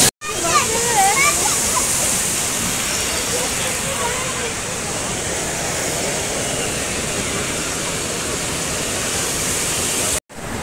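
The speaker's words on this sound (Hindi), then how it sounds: "पूरा झरना का जो साउंड है" Koilighugar waterfall at a picnic spot in Jharsuguda, Odisha, a loud continuous roar of rushing water filling the whole clip, with faint voices briefly audible near the start.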